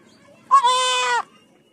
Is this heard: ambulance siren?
no